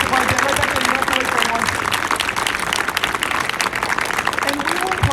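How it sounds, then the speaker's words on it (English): Applause from a school band concert audience fills the room steadily, dense clapping held at an even level under a speaking voice. "Can we give them another round of applause as they leave the stage tonight?"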